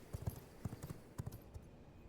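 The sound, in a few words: horse hooves clip-clopping in video game V Rising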